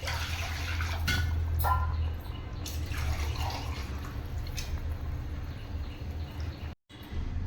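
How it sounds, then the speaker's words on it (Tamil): About one and a half litres of water splashes steadily into a cooking pot for turkey biryani, a continuous close gush with a few brief drips and clatters, then a short break near the end. "ஒன்றரை லிட்டர் அளவுக்கு தண்ணி ஊற்றுறோம்."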